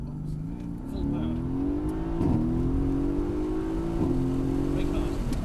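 A Mercedes-AMG GT S in sport plus mode accelerating hard at full power from close by, engine pitch climbing steadily with brief dips at each gear change.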